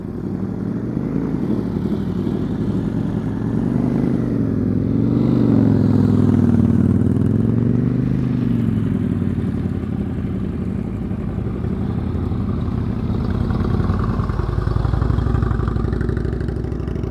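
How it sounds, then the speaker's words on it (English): A motorcycle engine idles and revs steadily for the whole stretch at a skills practice, a low rumbling drone with a slight swell in the middle, no voices. "That's a good engine sound."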